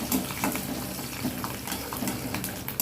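About ten garlic cloves frying in hot oil for guava chutney, a steady close sizzle with crackling bursts and occasional stirring scrapes, no voices.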